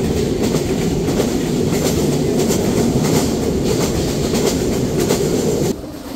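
Jahanabad Express passenger train between Khulna and Dhaka, a twelve-coach rake with a luggage carrier, rolls loudly and steadily along the rails with a continuous rumble and clatter that drops off sharply just before the end.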